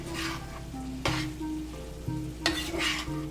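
A steak, onion and cheese mixture for Philly cheesesteak rice bowls frying in a pan, with cheese being stirred in: soft sizzling under a low hum, with a few distinct scraping stirs.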